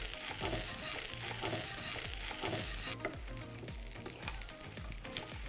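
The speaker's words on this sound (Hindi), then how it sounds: "उलट पलट इस तरीके से इसे भूनना जब तक कि जो कोकोनट है हल्के भूरे रंग की तरफ नहीं जाता" Freshly grated coconut fries and is stirred in a pan for a paneer Chettinad gravy, a close steady sizzle with soft rhythmic scraping strokes and no talk.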